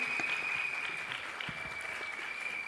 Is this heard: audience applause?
yes